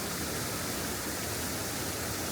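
A waterfall rushes over big boulders in a steady, broadband hiss that stays constant and fairly soft throughout, with no voices over it.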